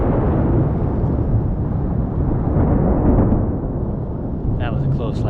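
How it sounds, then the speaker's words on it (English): Thunder from a close lightning strike during a big storm high in the mountains, a loud, sustained deep rumble rolling for several seconds, then easing, with a person's voice briefly heard near the end. "That was a close lightning strike."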